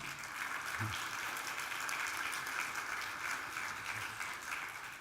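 Steady applause from a church congregation, a continuous wash of clapping at even volume filling the room throughout, with a brief low voice sound near the start.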